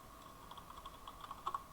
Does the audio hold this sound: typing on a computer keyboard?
yes